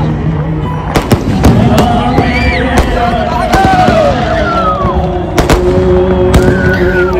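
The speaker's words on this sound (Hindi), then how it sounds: "और तब तक शुरू हो गया आतिशबाजी।" Repeated fireworks bursts crack and pop at irregular intervals during a Ram Lalla consecration celebration in Ayodhya, with a crowd chattering and calling out loudly throughout.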